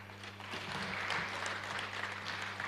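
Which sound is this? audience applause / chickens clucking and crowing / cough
audience applause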